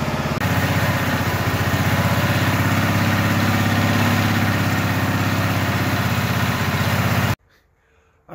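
An old lawn mower engine runs after a shot of starter fluid, loud and steady with a rapid putter, then cuts off abruptly near the end, leaving near silence.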